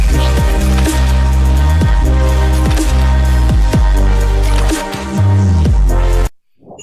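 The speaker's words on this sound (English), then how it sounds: "Now, Wave Shaper is a distortion based plugin in FL Studio," A loud, dense beat runs through FL Studio's Wave Shaper distortion plugin, giving saturated, gritty drums and bass that play continuously before stopping abruptly.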